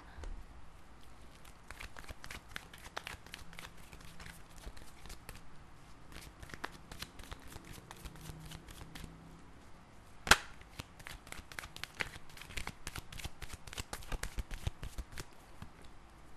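A deck of tarot cards is shuffled and dealt out, giving soft rapid riffling and flicking clicks close by, with one sharper snap partway through and quiet handling sounds, no talk.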